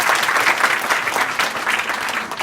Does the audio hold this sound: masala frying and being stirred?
no